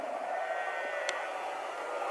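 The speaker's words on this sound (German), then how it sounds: "Dort steht ein Schaf, was mich die ganze Zeit anstarrt." A sheep bleats once, briefly and at a distance, on a lawn in Sirdal, Norway, over steady outdoor background noise.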